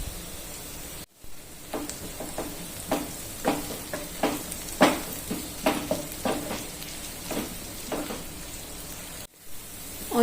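Sliced large onions and curry leaves frying in hot oil, a continuous close sizzle broken by frequent irregular stirring scrapes and pops.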